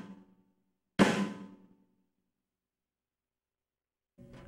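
A single snare drum hit with the snares engaged gives a sharp, crisp crack with a bright buzzing rattle that fades within about a second. A bit of speech comes before it and another voice starts at the very end.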